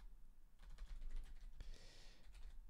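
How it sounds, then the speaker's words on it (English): Quick, uneven tapping on a computer keyboard, faint and close, with bursts of keystrokes over a low background hum. "I'm so bad at typing."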